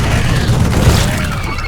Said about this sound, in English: Let me try out these shredder grenades. Fire in your hole.